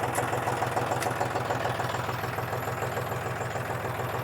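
A John Deere 5045 D tractor engine, 2025 model, runs at a steady low idle with a throbbing diesel pulse while gears are shifted, loud and continuous with no speech.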